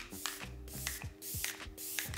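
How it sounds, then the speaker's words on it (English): Quick, quiet bursts of an e.l.f. Stay All Night Microfine Mist setting spray, pumped several times in an even rhythm with short hissy puffs and faint plastic clicks from the nozzle. "to set my face, I'm gonna be using the Stay All Night Microfine Mist from e.l.f."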